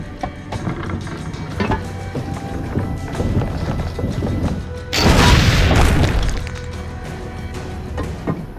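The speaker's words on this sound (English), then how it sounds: "Strzelanie z armaty to jest to!" A single heavy cannon boom bursts out midway through a busy stretch of Assassin's Creed Brotherhood game noise, a broad, loud blast that rings briefly before the background returns.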